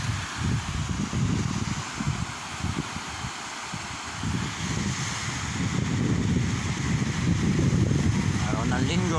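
Steady roar of sea surf and wind at a beach, continuous and fairly loud, with gusty microphone rumble throughout.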